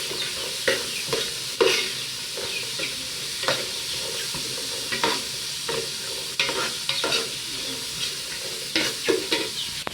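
Carrots stirred in a hot pan for fish fried rice, with a continuous sizzle and frequent, uneven scraping strokes of a spatula across the pan throughout.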